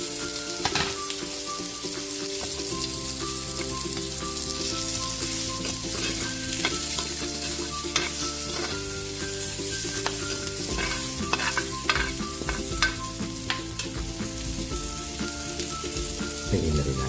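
Onions frying in a pan and being stirred, a steady dense sizzle with frequent scraping and clinking of the utensil against the pan, close and loud throughout with no talking.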